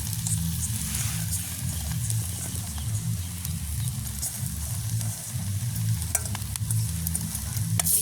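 A spoon steadily stirs drumstick pieces and grated coconut frying in a pan in a village kitchen, producing a continuous close sizzle with repeated scraping strokes throughout and no talking.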